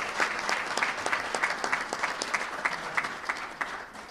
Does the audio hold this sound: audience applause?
yes